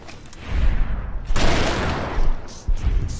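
Gunfire aimed at geckos in Fallout: New Vegas: loud, dense bursts of shots, with a big volley about a second in and another near the end, over a rumbling low end.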